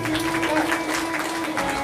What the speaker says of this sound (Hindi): जोरदार ताली बजाइए माता जी के लिए